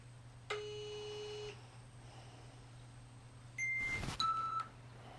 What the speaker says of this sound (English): you hear the beep of your dry fire